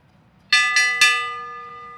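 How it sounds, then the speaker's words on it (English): Three quick clanging strikes of a bright metal bell signal the final lap of a bike race, each ring leaving a long, clear, resonant tail that fades out close and loud with no talk over it. "Here comes the bell."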